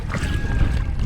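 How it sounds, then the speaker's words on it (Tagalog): Strong wind buffeting outdoors near water, a loud continuous low roar and rumble against the microphone throughout a short moment with no talk. "Yeah, it's too windy."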